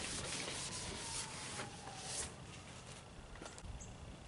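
A microfiber cloth dampened with alcohol is rubbed over a truck's tail light lens, giving a soft, steady scrubbing hiss that runs close and quiet throughout with no talking.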